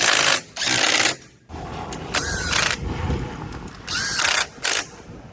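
A ratchet wrench clicks in short bursts while tightening bolts on a trailer wheel during wheel bearing work, loud and close, with pauses between each run of rapid pawl clicks.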